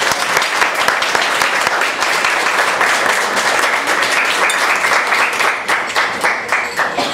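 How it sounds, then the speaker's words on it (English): A room of listeners at a tavern political event applauds a congressional candidate being introduced, loud close clapping from a small crowd with distinct individual claps, sustained and slightly thinning toward the end. "Give him a round of applause."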